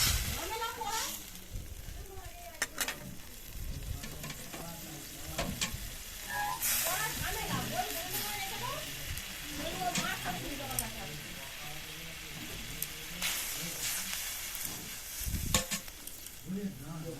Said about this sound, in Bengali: জলটিকে নেড়ে ছেড়ে ফুটতে দেব